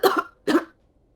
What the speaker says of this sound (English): He cuts off as he goes into a coughing fit.